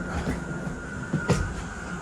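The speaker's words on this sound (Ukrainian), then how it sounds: "Не нормально, це просто електричка." An electric commuter train in Poland rumbles steadily close by with a constant hum and a few wheel clacks, loud and continuous with no talking.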